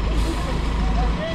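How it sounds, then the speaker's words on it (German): A truck with air brakes runs close by in a garden project setting, giving a loud, steady low engine rumble with faint higher whistling tones, while people talk over it. "jetzt geht es nicht mehr weiter mit dem LKW"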